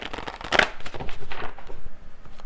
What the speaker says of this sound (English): I'm going to get one final card here from this deck